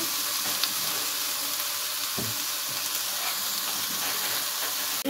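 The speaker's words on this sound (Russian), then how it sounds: "Теперь обжариваем перчик." Bell pepper frying in a pan, a loud continuous sizzle and hiss that holds steady throughout, with a few soft stirring knocks.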